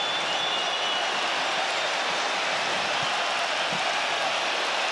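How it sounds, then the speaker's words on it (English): A capacity arena crowd in Perth, Western Australia gives a standing ovation after a UFC title fight between Makhachev and Volkanovski, a steady, dense wash of applause and cheering heard from a distance without a break. "A standing ovation from the capacity crowd in Perth, Western Australia."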